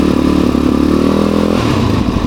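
The engine of a Suzuki DRZ400 motorcycle revs up loudly and close, its thumping single-cylinder drone rising in pitch and then easing back.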